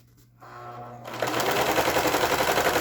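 Serger sewing machine stitching the fabric of a reusable grocery bag: after a quiet start and a brief mechanical whir, the motor runs up to a loud, fast, continuous rattling stitch that holds steady to the end.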